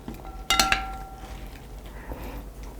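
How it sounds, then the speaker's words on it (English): Persimmon and citrus salad with Napa cabbage being tossed with dressing in a bowl, a brief burst of utensil clinks and scrapes against the dish, then soft quiet stirring. "I'm just going to mix it a little bit to get all the dressing."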